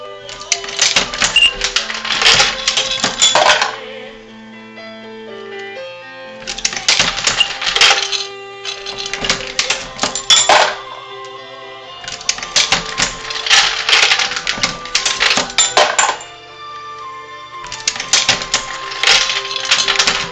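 A Dillon 650 progressive reloading press cycling .223 ammunition gives repeated mechanical clacks and metallic clinks in busy bursts of several seconds, separated by short pauses, loud and close.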